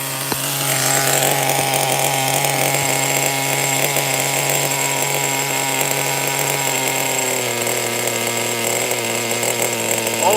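A Megatech Razor M16 1+HP model engine runs steadily at a very low idle, a loud, continuous buzzing drone that holds close and even throughout with no talking over it.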